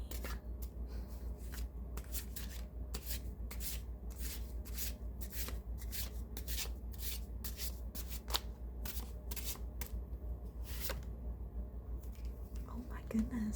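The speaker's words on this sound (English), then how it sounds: "So we'll shuffle this one and see if anything comes out" A tarot and oracle card deck being shuffled up close, a quick run of soft riffling card bursts repeating steadily, with a faint quiet voice in the background.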